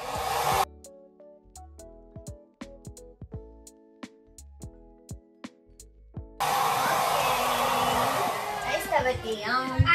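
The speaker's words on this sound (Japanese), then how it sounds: "髪の毛乾かしますぜ。" A handheld hair dryer blowing while someone dries their hair at home at night, a loud steady whoosh that starts at about six seconds after a stretch of piano-like music, with light rustling on top.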